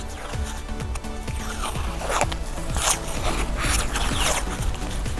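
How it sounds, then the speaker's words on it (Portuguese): Masking tape is pulled from the roll and wrapped around a piece of cardboard, making repeated close, raspy tearing strips in a continuous rhythm. "agora eu vou encapar o meu papelão com uma fita crepe"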